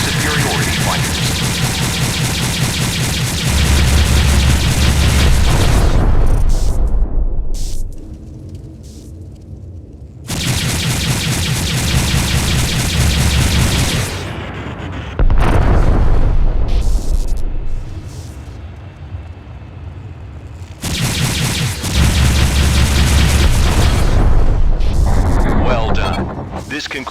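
Drones are destroyed with Subach HL-7 laser guns on a Myrmidon space superiority fighter in FreeSpace 2, heard as long, loud roaring bursts of blasts and explosions alternating with quieter gaps, with a voice speaking between them.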